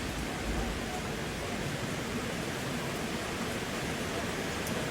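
Steady, dense rushing of floodwater fills the whole clip in Hongsa, northern Laos, a broad continuous roar of fast-flowing water, close and unbroken.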